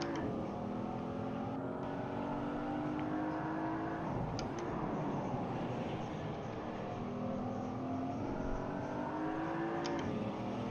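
A heavy race car in a racing video game revs hard at high RPM, its engine note sweeping up and down through downshifts in a steady, loud, continuous drone.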